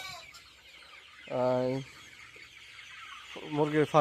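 Sonali chickens on a farm cluck in two clear bursts, one near the middle and another toward the end, over a low, quiet barn background.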